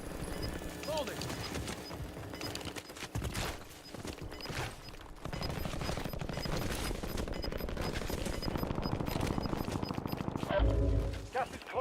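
Gunfire in a Call of Duty Blackout match crackles in dense, sustained volleys after a quieter opening, with a voice speaking over the shooting.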